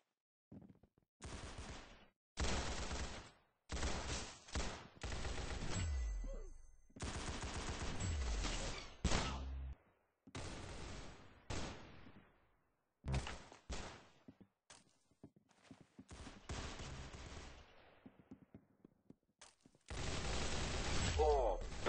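Gunfire in the Roblox shooter Arsenal: repeated bursts of rapid automatic fire and single shots, loud and close, separated by short silences over about twenty seconds.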